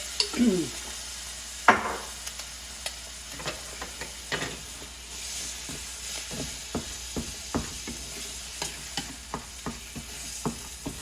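Crumbled sausage and salsa cooking in a pan, with a quiet steady sizzle under repeated scraping, clicking strokes of a spoon stirring against the pan surface, fairly close and no talk.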